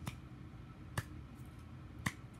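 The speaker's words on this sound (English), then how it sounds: "Slow clap." Slow hand clapping in a quiet room, three sharp, close claps spaced about a second apart with nothing else heard between them.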